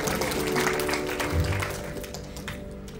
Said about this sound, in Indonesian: Tepuk tangan buat kami.